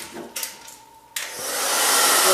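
A handheld hair dryer switches on partway through and blows steadily while drying a section of bangs during a home haircut, its airy roar swelling louder toward the end after a brief quieter stretch.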